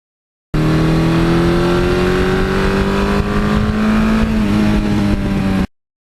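A 1982 Suzuki GS1100E air-cooled motorcycle engine drones loudly through its exhaust, holding a steady revving note that climbs slowly throughout, with no other sound over it.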